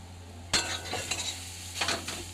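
Greens frying in a pan are stirred with a spatula, making a soft sizzle with a few distinct scrapes and clinks against the metal; no voices are heard.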